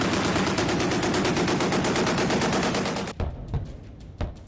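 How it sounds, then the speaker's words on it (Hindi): Rapid gunfire from the guns of China's Type 055 Nanjing destroyer, a loud sustained burst of fast, evenly spaced shots lasting about three seconds, then a few separate booming shots and echoes. "दनादन निकलती गोलियां,"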